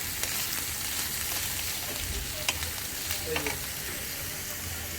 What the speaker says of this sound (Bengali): সমস্ত পেঁয়াজ কুচি গাজর কুচি বিনস কুচি সব দিয়ে দেবো দিয়ে একটু নেড়ে চেড়ে নেবো এটাকে ভালো করে